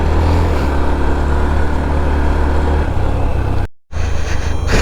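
Several motorbikes grind uphill on a steep, uneven off-road track toward Boga Lake, their loud continuous engine drone close and steady, broken briefly by a sharp gap near the end before resuming.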